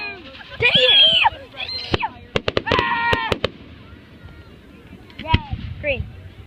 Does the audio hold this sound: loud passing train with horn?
no